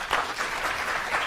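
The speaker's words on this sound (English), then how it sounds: "let's welcome Glen and give him a round of applause" Brief burst of audience applause welcoming a speaker at a talk, steady clapping from a room of listeners.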